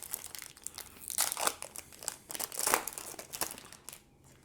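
Trading card packs, NBA Hoops basketball cards, torn and crinkled open by hand, with bursts of foil wrapper crackle and ripping at close range and quiet gaps between, no talking.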